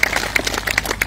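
A church congregation claps together during a sermon, a brief burst of dense, overlapping handclaps that stays steady and fairly loud for about a second.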